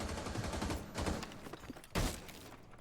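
Pre-placed explosive charge detonating in a competitive shooter match, heard as a sharp burst after a stretch of rattling gunfire and thuds, moderately loud amid the action.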